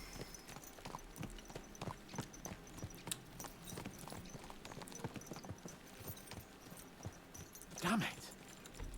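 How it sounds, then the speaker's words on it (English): Horses' hooves clip-clop in a brisk, uneven rhythm of many sharp strikes in a video game, with a louder burst near the end under a voice talking. "Let's really spur these horses on"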